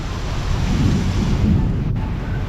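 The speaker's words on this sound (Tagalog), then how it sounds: "naulan pa lakas parang may bagyo" Heavy, typhoon-like rain pours down outdoors at Changi, a loud, dense, continuous roar mixed with wind buffeting close to the microphone.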